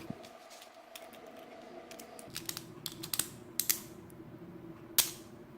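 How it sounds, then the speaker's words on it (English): A Beyblade Burst Sieg Xcalibur attack-type top being assembled by hand, its tight ratchets giving a series of sharp, close plastic clicks and snaps that grow busier toward the end over a quiet background. "let's go ahead and assemble the Beyblade"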